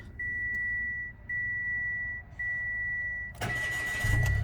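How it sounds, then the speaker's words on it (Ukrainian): A repeating electronic chime beeps steadily, then a Mitsubishi Mirage Limited car engine cranks and catches, settling into a low, even idle close by. "Автомобіль заводиться без питань, працює рівно стабільно справно"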